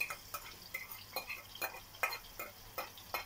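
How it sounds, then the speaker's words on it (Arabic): Grated onion frying in hot oil in a pot, heard as a soft sizzle under regular scraping strokes of a spoon stirring about three times a second, faint and without talk. "بصلايه واحده بشرتها هنزل بيها في الزيت والحله سخنه طبعا"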